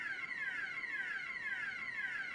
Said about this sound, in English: This alarm is just driving me.